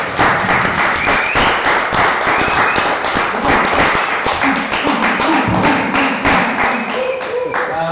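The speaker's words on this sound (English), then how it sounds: "Please give her another round of applause." Audience applause at a church women's gathering, steady dense clapping from many hands filling the room throughout, loud and continuous with no break.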